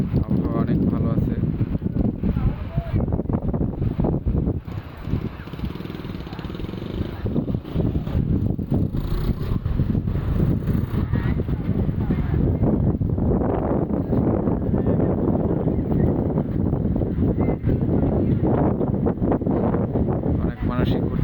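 Wind on Patenga sea beach buffets the microphone in a continuous low rumble that swells and dips, with indistinct voices of beachgoers faintly underneath.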